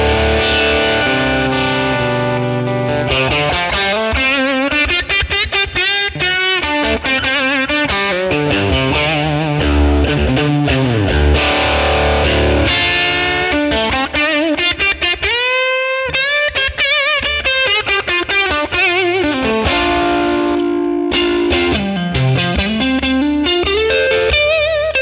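An electric guitar plays through a Fender 1957 Tweed Bassman amp model with added reverb, giving a loud, continuous, driven tone of sustained chords and bending lead notes with no voices.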